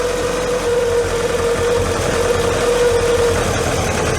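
A Volkswagen Scirocco engine idles on all four cylinders, a steady close drone with a low, even hum and no speech.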